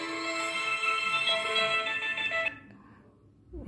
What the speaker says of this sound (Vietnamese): nhạc chuông Vertu đã vang lên rồi, đây là một nhạc chuông bản quyền của Vertu